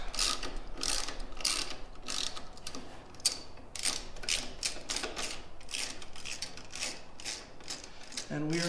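A hand ratchet fitted with a T40 Torx bit turns guard bolts on a 2021 BMW motorcycle, giving a steady run of quick, fairly quiet clicking strokes.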